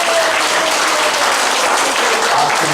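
Dense, continuous applause from a church conference audience fills the room loudly and evenly throughout, with no pauses.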